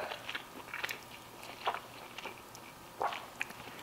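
Smoked beef dino ribs are bitten and chewed, giving a few soft, close, moist crunching bites at quiet volume with no talking.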